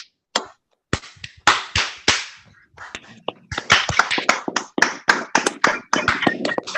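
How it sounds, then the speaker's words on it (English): Scattered, uneven hand claps from a small online audience congratulating workforce program graduates, heard as sharp separate claps at first and then a quicker burst of overlapping clapping, close and fairly loud. "give our graduates a round of applause that they deserve"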